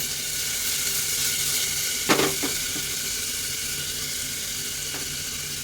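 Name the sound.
onion frying in a pan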